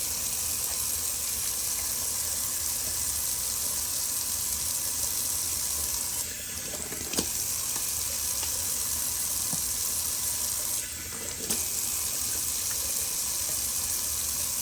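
Tap water runs steadily over a shaving brush being rinsed out, a continuous rushing splash with two brief dips where the flow is interrupted.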